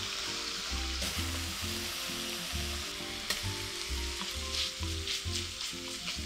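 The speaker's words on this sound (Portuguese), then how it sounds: "Na sequência, eu vou adicionar o alho para complementar esse refogado." Chopped garlic sautés with red onion in a hot pan, giving a close, steady sizzle broken by regular scraping stirs over about six seconds, with no speech.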